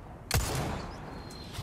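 A single sharp gunshot cracks out in the Resident Evil 4 Remake video game, followed by a lingering echoing tail and a faint second impact at the end.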